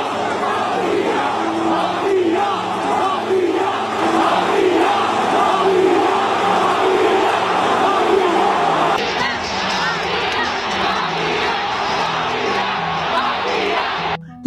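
Indonesian football supporters roar, chant and shout continuously in a packed stadium, a dense, loud crowd wall with rhythmic chanting swells throughout.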